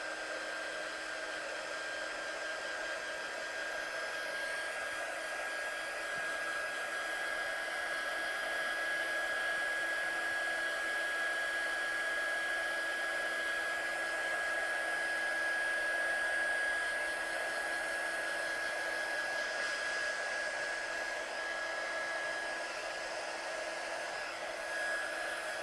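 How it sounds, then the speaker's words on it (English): A heat gun blows a steady, unbroken whooshing roar with a thin high whine, drying stamped metallic ink at close range, with no voices. "I'm just going to dry it with my heat gun"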